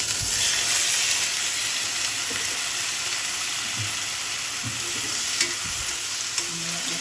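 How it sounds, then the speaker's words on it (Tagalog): Pork sizzles and fries in a pan with onion, garlic, tomato and ginger, a loud continuous hiss with occasional stirring clicks close by. "Ngayon, ilalagay na natin yung pork."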